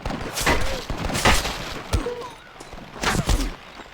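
Several gunshots crack out in the Red Dead Redemption Western game, a scattered volley of sharp reports and thuds spread over a few seconds, mixed with in-game voices and shouting.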